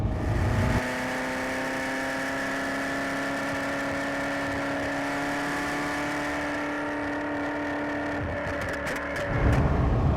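A Ferrari F40 sports car driving on the road, its engine holding a steady droning tone with whirring harmonics, then a throttle change and rising roar near the end, heard from inside, no speech.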